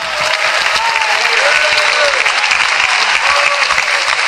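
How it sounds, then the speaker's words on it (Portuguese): Loud, dense clapping from a church congregation fills the space steadily and without pause, a sustained wall of applause with no speech over it. "Pode louvar a Deus com as palmas bem forte."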